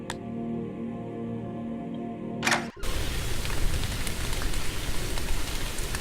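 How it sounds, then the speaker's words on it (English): In a video game, a droning ambient tone gives way to a sudden burst of rain that then falls steadily, a dense even hiss filling the rest of the moment with no voices. "It started to fucking rain."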